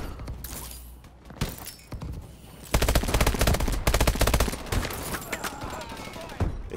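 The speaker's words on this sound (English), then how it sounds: "They're shooting from down below." Heavy video game gunfire from a Clan Wars match in Los Angeles, with dense automatic bursts and single shots cracking loudly in rapid rhythm and peaking midway, mixed with thuds and brief background voices.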